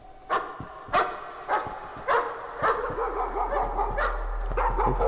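A dog in the horror video game Layers of Fear barks repeatedly, with about five loud, evenly spaced barks followed by quicker, overlapping yelps and whimpers over a rising low rumble.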